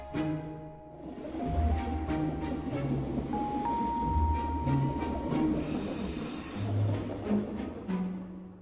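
A train rolls into a station and slows to a halt, its steady rumble and wheel noise filling the scene with a long high squeal near the middle and a hiss near the end, with no talk.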